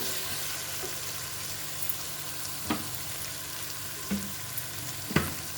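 Ginger garlic paste fries in a pan for a coconut milk vegetable biryani, a continuous close sizzle broken by three sharp spoon taps or scrapes against the pan, with no voices.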